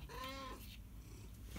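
A cat gives one clear drawn-out meow up close in a room, followed by quiet rustling and background noise.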